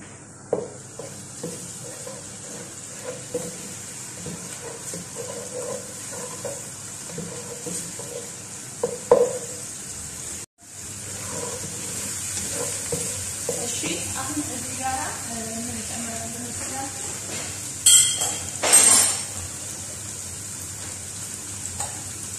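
Garlic and ginger sizzle in a hot pan as they are stirred, a steady bright hiss with scraping stirs, briefly cut off partway through, then resuming louder.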